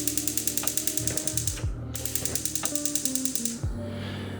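A gas stove knob being turned on under a cast iron pan gives a steady rapid ticking of the igniter clicking over and over, with a couple of deeper mechanical clunks, close and moderately quiet.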